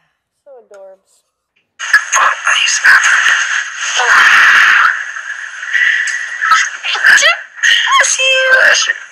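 A person in the Big Brother 20 house gives one short, sharp sneeze near the start, followed by several people talking loudly and continuously.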